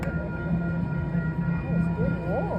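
A train passes on College Street in uptown Charlotte, North Carolina, a steady loud rumble with high whistling, squealing tones over an outdoor city background.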